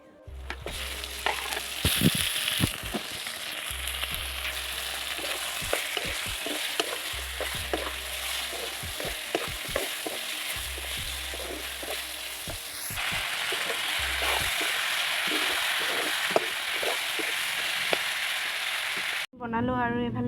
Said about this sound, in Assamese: চাওক এতিয়া মই মাংসখিনি ভাজিব লৈছোঁ